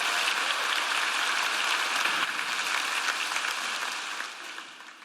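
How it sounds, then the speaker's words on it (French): Steady applause from a church congregation during a Good Friday service, a dense even patter of many hands that holds level before tapering off at the end. "Applaudissez-les."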